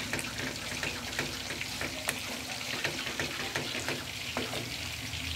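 Sauce for chicken katsu steak bubbling and popping in a pan while being stirred: a continuous close sizzle dotted with sharp little pops and scraping, with no talk.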